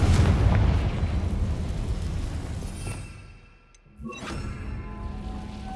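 A Confringo fire spell blast booms loudly in Hogwarts Legacy on PS5, a broad roaring burst that decays and dips to near quiet before a second, softer rumble swells back.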